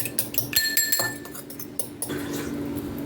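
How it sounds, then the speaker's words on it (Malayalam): An egg with a little salt being beaten in a bowl, giving rapid, close clinks of utensil against the bowl in a quick irregular rhythm that slows and fades into softer stirring and rustling. "ഒരു മുട്ടയ്ക്കകത്തോടെ അല്പം ഉപ്പ് ചേർത്ത് നമുക്കിത് ബീറ്റ് ചെയ്തെടുക്കാം"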